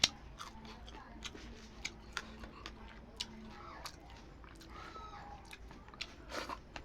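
Someone eats crispy fried tilapia up close, with sharp, crunchy bites followed by wet chewing. The crackles come in an irregular rhythm over a quiet background.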